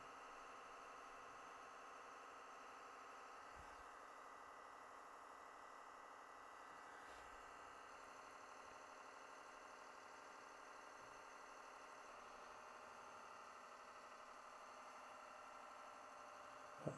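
The engine of an offshore lighthouse generator runs steadily, a faint constant mechanical hum with faint ticks and knocks, alone and unchanging throughout.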